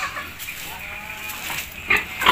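Pigs, including a sow and fatteners, grunt and snuffle nearby with low, uneven sounds, followed by a couple of brief higher squeals toward the end.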